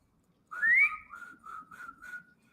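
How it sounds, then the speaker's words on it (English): Nearby whistling: a rising note followed by three or four shorter, wavering tones at a steady pitch, fading out. "I have a hard time with the whistling too."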